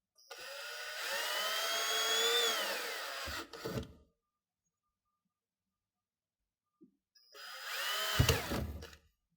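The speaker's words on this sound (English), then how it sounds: "now we can come back and drill our full 4 holes that we've marked" A power drill bores holes into a Polaris GENERAL dashboard in two loud, whirring bursts, the first sustained for about three seconds with rising pitch, the second shorter, separated by near silence.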